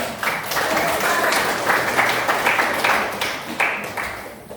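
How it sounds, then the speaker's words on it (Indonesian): Students in a classroom clap together after a group presentation, a lively burst of uneven hand claps with a few louder swells, loud and close, then slowly thinning. "Oke, tepuk tangan dulu"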